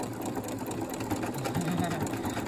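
A sewing machine stitches a buttonhole on a Greenstyle Muscle Up tank, a fast, steady mechanical whirring rattle close to the microphone.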